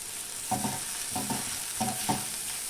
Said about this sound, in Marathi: मसाला थोडा फ्राय करून घ्यायचा